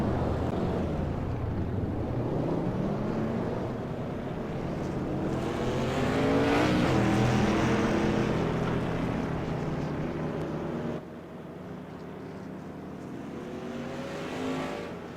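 Modified race cars circle Irwindale Speedway under caution, engines droning and sweeping past at moderate distance in a continuous rumbling wash with wind noise.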